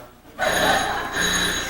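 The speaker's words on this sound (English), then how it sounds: "That's the phone, Ken." A telephone rings loudly and close by, two long electronic trills separated by a short gap.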